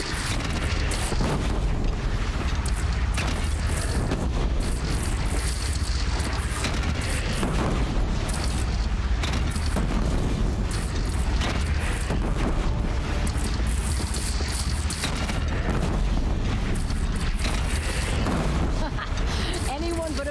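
Heavy booming cannon fire in Horizon Zero Dawn keeps up through a long, loud, dense battle, with voices heard now and then through the blasts.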